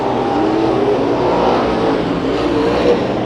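Pro Stock race cars roar around the track at Santa Maria Raceway, a loud, continuous engine drone with slight rises and falls as they pass.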